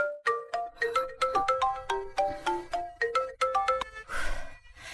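A bright, melodic phone ringtone plays a quick repeating tune of plucked notes, loud and steady, ending in a brief wash of sound.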